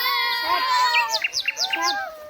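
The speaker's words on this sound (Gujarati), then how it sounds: "તમારી જ્યાં જર ફરે ત્યાં તમને અલગ અલગ પક્ષીઓ જોવા મળે." Birds chirp in quick bright whistles and rising tweets near the Statue of Unity during a school trip, with a run of rapid repeated notes over faint background chatter.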